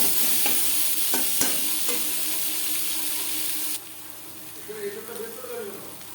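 Onions fry in a pan for Bengali prawn malaikari, a bright close sizzle with a few stirring scrapes that drops sharply quieter partway through, with a voice speaking faintly underneath.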